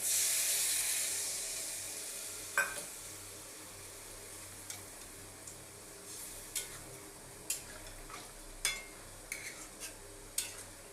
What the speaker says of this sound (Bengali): আমি এবার সামান্য পরিমাণে জল দেব